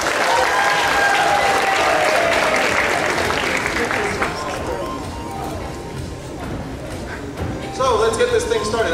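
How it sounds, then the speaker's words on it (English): Applause for the judges at an anime convention costume contest, a big crowd clapping loudly, easing off midway and then swelling again with cheers and voices. "All right, another big round of applause for all of our judges,"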